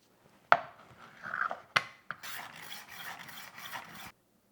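Rolling knife sharpener working a blade across a 400 grit disc, with sharp clicks and scraping rasping strokes in short passes, close and fairly quiet.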